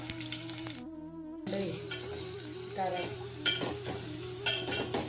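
Ingredients for a spicy Rayalaseema-style chicken curry frying in a pan until browned, with a steady sizzle, a brief sharp hiss and repeated stirring scrapes close by.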